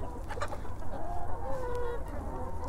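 Curious Lokman breed hens cluck softly in a modern free-range chicken farm, a few short murmuring calls at close range over quiet background noise.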